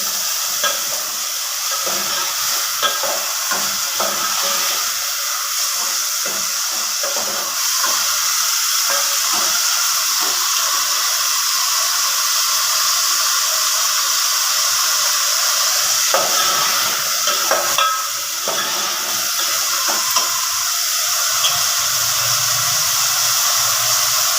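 Oil frying in a pan for a festive home meal, a loud, dense, continuous hiss and sizzle held steady throughout, with occasional faint stirring clatter and no voices.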